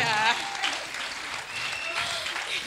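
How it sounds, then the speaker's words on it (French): A church congregation at a Sunday service applauds loudly, a dense, sustained wash of clapping with a voice briefly audible at the start. "on acclame très fort le Seigneur"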